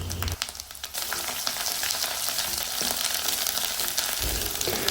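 Mustard paste with turmeric, chili and coriander powders fries in a pan for mustard hilsa, a loud, steady sizzle with scraping from a stirring spoon near the start and end.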